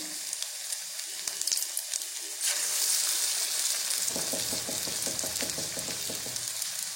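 Urad dal bonda batter dropped into hot oil, a rising burst of bubbling sizzle that spreads into steady crackling frying with a rush of hiss, close and fairly loud with no talking.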